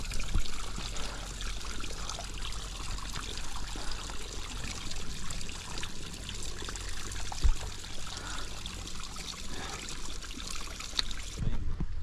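Clear mountain water trickles and streams on Čemerska planina, a continuous close babbling wash lasting several seconds with small splashes and no speech.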